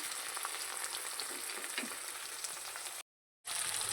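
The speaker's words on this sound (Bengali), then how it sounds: "টমেটোটা ভালোভাবে সেদ্ধ না হওয়া পর্যন্ত মশলাটা এইভাবেই কষাতে থাকবে" Spice paste with tomato fries in a pan, a steady, fairly quiet sizzle that runs continuously, broken by a short gap of silence near the end before resuming.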